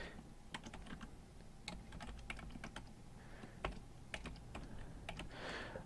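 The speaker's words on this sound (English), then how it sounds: "so you have to type" Quiet, close typing on a computer keyboard, a fast irregular run of light key clicks with short pauses and a few heavier taps, no voices.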